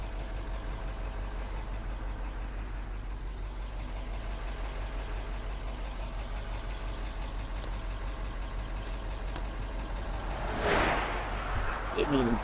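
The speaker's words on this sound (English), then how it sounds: "We got a truck coming." A truck approaches and roars past close by on a roadside near a tow scene, its rumble swelling into a loud rushing pass near the end over steady traffic and engine noise.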